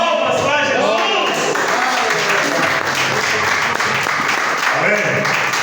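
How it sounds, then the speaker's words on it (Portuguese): A congregation at a Brazilian evangelical church service applauds loudly and continuously, dense clapping mixed with voices and cheering throughout. "Palmas para Jesus!"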